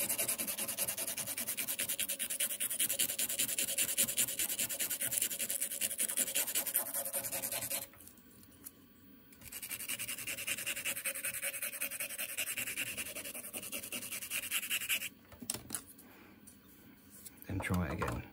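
Mega Drive game cartridge contacts being rubbed down during a repair, producing a continuous close scratchy rubbing with brief pauses between strokes.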